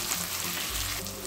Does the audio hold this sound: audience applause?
no